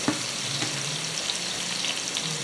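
Teriyaki salmon fries in a pan with a steady, close sizzle and fine crackling spatter that runs unbroken throughout, with no voices over it.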